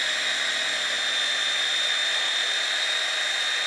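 A chainsaw cutting down a tree on a residential street in Austin, Texas: a loud, steady, high-pitched motor whine holds without a break for the whole stretch.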